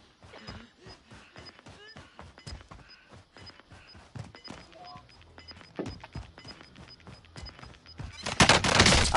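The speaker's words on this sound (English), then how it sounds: "there's somebody shooting me" Gunfire in Call of Duty Modern Warfare, rapid sharp shots in quick irregular bursts throughout, moderately loud and close, building into a dense loud roar of fire near the end.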